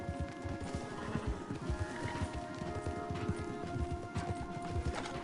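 Rapid, steady hooves of a video game horse clip-clop close by in an even galloping rhythm over a low background drone, with no voices.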